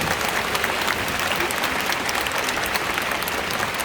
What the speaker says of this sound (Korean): 박수해 주시면 감사합니다.